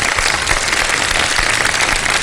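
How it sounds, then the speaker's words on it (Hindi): Steady applause from a studio audience at an iftar TV show, a dense wash of many hands clapping at once, fairly loud and continuous with no voices over it. "तालियां।"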